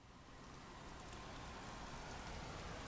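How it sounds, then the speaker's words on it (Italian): Steady rain falls, a soft continuous hiss of drops on surfaces, quiet and unbroken throughout. "Qua invece piove."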